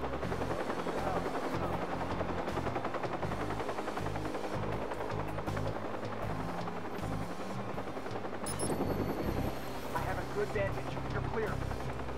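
Helicopter in the video game Watch Dogs, a continuous loud rotor thump with a pulsing beat and low engine drone that swells briefly near the end, with a voice talking over it at times.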